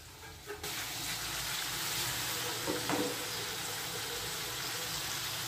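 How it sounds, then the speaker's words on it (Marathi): Prawns frying in hot oil in a pan for a spicy prawn curry, giving a steady low hiss and crackle that runs through the whole stretch with one brief louder sputter near the middle. "सर्वप्रथम कोळंबी अशा पद्धतीने तेलामध्ये फ्राय करून घ्यायची आहे"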